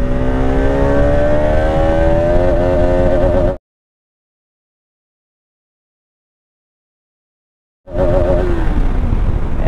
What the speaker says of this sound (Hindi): थर्ड गियर में देखते हैं